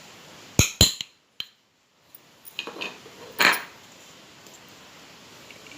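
Rice flour and spices being mixed in a bowl for Konkani aloo wadi, heard as a few sharp clinks and knocks of a utensil against the bowl followed by softer scraping, close and fairly quiet.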